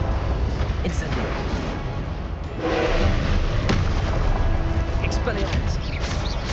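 An Incendio fire spell in Hogwarts Legacy blasts out in a sustained whooshing roar, loud and continuous, mixed with booming combat effects and spoken spell calls over the top.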